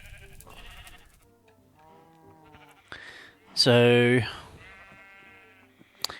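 One loud sheep bleat sounds in the Minecraft video game, preceded by quieter game sounds and someone speaking.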